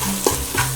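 Chopped tomatoes being stirred in a frying pan for an Andhra-style chicken pulao, with a loud, steady sizzle close by and a couple of soft scraping strokes from the spoon.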